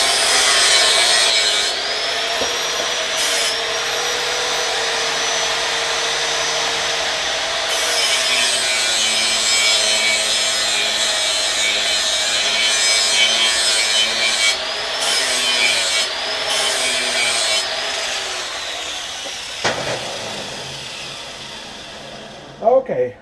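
A flap sander grinds along the edge of an axe clamped in a vise, a steady loud abrasive whir with shifting scraping tones that runs almost unbroken before stopping near the end.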